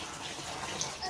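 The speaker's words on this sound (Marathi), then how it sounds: "अशा प्रकारे पाणी मारतोय आणि मग धुवायचं" Water hoses onto a camping tent to wash it, a steady broadband spray that stays even and close for the whole moment.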